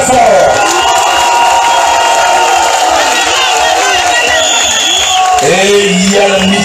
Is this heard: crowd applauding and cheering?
yes